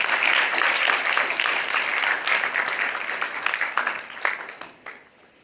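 A crowd applauds steadily at the opening ceremony of the Feminart Arts and Book Festival, the clapping dense and sustained before thinning into scattered claps and fading out.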